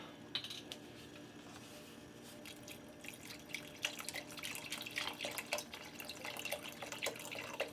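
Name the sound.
pouring vegetable broth into a pot of pasta e fagioli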